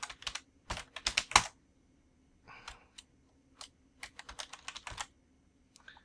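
In-game keyboard typing sounds from Shadowrun: Dragonfall while hacking a library archive and employee record system, heard as quick clicky clusters of keystrokes separated by brief silences, close and clear.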